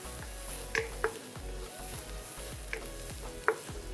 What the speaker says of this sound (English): Adding the curry leaves once the onion is clear and sautéed a bit.